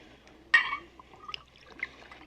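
A drink poured into a glass in an Old West setting, a brief splashing burst followed by faint trickles and clinks, quiet and close.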